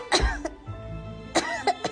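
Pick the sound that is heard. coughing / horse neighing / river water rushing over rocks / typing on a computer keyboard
coughing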